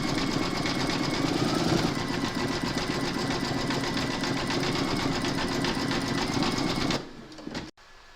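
Embroidery machine rapidly stitching a satin stitch and placement outline for a four-leaf clover coaster, a loud, steady mechanical whir that stops abruptly near the end, followed by a couple of faint clicks.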